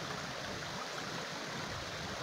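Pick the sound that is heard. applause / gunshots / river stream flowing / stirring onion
river stream flowing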